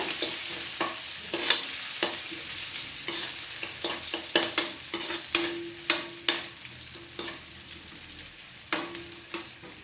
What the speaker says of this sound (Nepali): त्यसपछि हजुरहरूले काटेर राखेको सानो पिस गरेको लसुन राख्न सक्नुहुन्छ र यिनीहरूको एकछिन फ्राई गरिदिनु होला।